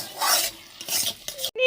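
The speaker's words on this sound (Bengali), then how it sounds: "দেখো মা আলু ভাজছিল," Potatoes frying in a home kitchen pan are stirred and flipped with a utensil, producing scraping and rasping strokes over a soft sizzle, with a few metallic clinks near the end and no voices.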